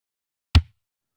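A single kick drum hit from a drum part of a song, a short deep thump with a quick click on top, isolated and close in otherwise silent surroundings.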